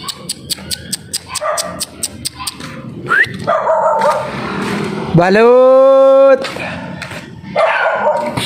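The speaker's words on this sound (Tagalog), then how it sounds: "Hinaharang ako ng aso." A dog in a residential subdivision street barks repeatedly in quick sharp bursts, then whines with a long high yelp, close and loud, with someone speaking between the barks.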